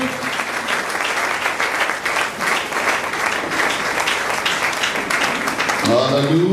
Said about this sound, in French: Acclamons très fortement pour le Seigneur.